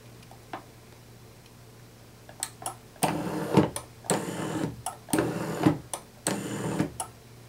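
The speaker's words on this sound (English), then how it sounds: "The high speed has a force of 22 pounds and moves the shaft 9 inches per second." A FrightProps electric linear actuator drives its shaft at high speed, producing a quiet initial ticking and then a series of short mechanical whirring bursts with clicks between them, close up and without talk.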